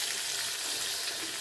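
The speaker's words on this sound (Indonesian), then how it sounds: "Kita goreng dulu tempenya agak matang ya." Tempeh fries in hot oil in a pan, a dense continuous sizzle and hiss, close and steady, with no talking.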